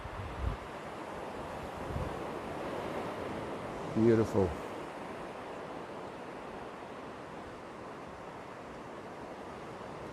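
Ocean waves wash steadily onto the beach at Manguinhos in Búzios, Rio, in the very early morning, a continuous broad surf roar with wind noise, and a voice speaks briefly partway through.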